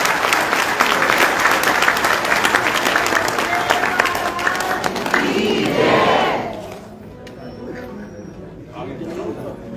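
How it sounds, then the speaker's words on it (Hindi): Loud applause and cheering from an audience at a Hindu spiritual discourse fill the hall densely, then fade as the clapping dies down and a voice begins speaking. "मैं चाहूंगा जोरदार ताली आप सबकी तरफ से करनी चाहिए"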